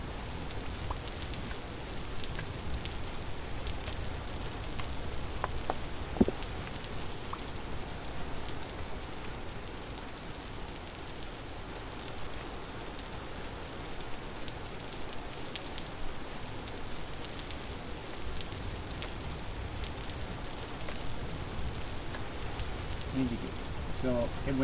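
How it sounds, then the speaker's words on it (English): Rain falls in the video game Vintage Story, a steady soft hiss of drops that runs unbroken the whole way through at low volume, with a faint voice speaking under it. "so gloomy when it rains"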